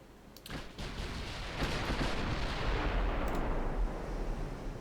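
Dreadnought-era battleship gunfire in a naval warship video game, with sharp heavy cannon reports followed by a long, loud rolling rumble that builds and lingers, and no voices.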